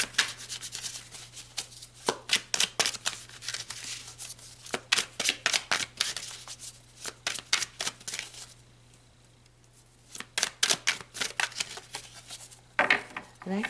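Repeated rapid riffles of cards being shuffled up close, in bursts with a short pause in the middle, and brief talking in places.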